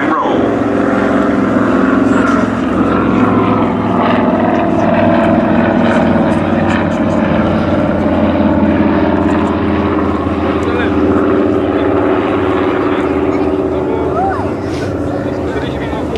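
A camouflaged de Havilland Dragon Rapide propeller biplane from 1941 flies at the Duxford VE Day anniversary airshow, its engine drone steady and fairly loud throughout, while a commentator talks over it.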